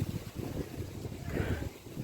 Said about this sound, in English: slightly windy,